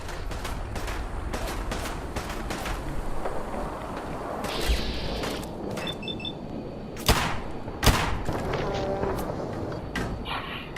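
A shotgun fires in Fallout 4: two sharp, fairly loud blasts a second apart stand out over a steady bed of game ambience and low background noise.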